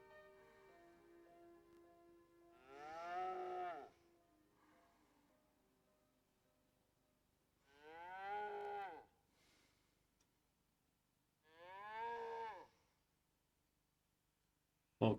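A cow mooing in a film played back from tape, three long drawn-out moos spaced several seconds apart, moderately close but lo-fi, with quiet gaps between and a faint tonal hum early on.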